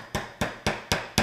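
A small hammer taps a metal lid down onto a tin can, five sharp, evenly spaced metallic knocks in quick succession, close and clear with no voices.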